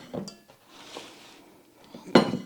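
A butter knife rattled out from among cutlery in a kitchen, a couple of light clinks early on and then a sharper, louder metallic clatter near the end.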